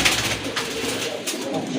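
A pair of pigeons coo in soft, low murmuring calls close by, brief and continuous over a faint background.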